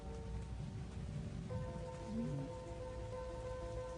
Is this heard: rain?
yes